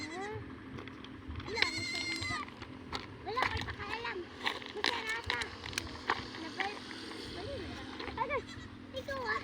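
A large goat bleats repeatedly outdoors while herding, wavering calls mixed with children's voices and chatter around it.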